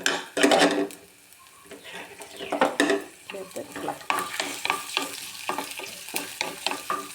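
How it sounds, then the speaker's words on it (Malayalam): Mustard seeds, curry leaves, chopped ginger and garlic sizzle and crackle in hot oil in a pan, with repeated scraping stirs and clinks of a utensil against the pan, loud and close. "ചട്ടിയിലേക്ക് എണ്ണ ഒഴിച്ച് അതിനകത്ത് കടുക് ഇട്ട് കുറച്ച് കറിവേപ്പില ഇട്ട് ഒന്ന് ഇളക്കി കൊടുക്കാം."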